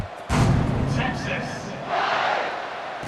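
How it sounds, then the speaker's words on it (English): A stadium crowd roars in EA Sports College Football 26 as the kickoff unit takes the field after a touchdown drive, a loud swell of cheering and shouting that stays steady and surges again near the end. "this crowd is feeling themselves after that last drive"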